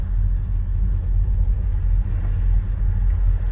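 A 1966 Dodge Coronet Delivery, a big car with a modest engine, drives along with a steady low rumble and engine drone that stays constant and fairly close throughout.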